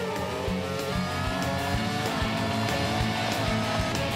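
An animated race car overtaking a rival in a cartoon race. The engine gives a loud, continuous, steady roar with a few faint sharper ticks, and no other sound breaks through.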